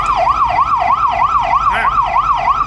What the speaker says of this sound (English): I'm gonna change it to siren. When you let go of the button, then the siren will go off.